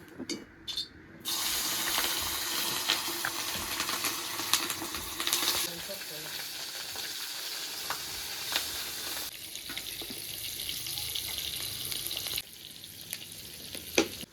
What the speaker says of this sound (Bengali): তেলটা গরম হয়ে গেছে এবার মাছগুলো এক এক করে ভেজে নেব